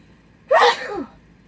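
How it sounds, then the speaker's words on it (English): A single loud, close sneeze with a sharp intake then a burst, followed by a brief trailing exhale, alone in a quiet room. "So, I am going to sneeze."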